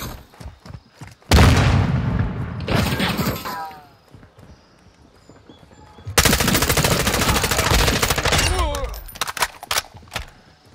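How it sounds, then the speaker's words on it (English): In the Modern Warfare 2 video game, a grenade blast and heavy automatic gunfire erupt in two loud, dense bursts separated by a quieter stretch, with a short shouted voice between. "Frag out! Throwing grenade!"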